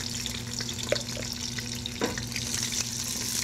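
Chopped onion goes into browned garlic cloves frying in a pan for sofrito, producing a quiet continuous sizzle with a few soft clicks and stirring touches, close but low in level, without speech.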